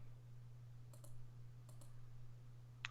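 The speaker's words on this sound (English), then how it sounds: "I can hear clicking." Faint clicking during a match of a card game, a few soft paired clicks spaced about a second apart over a steady low hum, with no talk.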